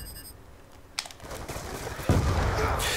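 Gunfire in the video game Black Ops 2, a dense noisy crackle of shots with sharp bursts near one second and just after two seconds, loud and continuous with no talk over it.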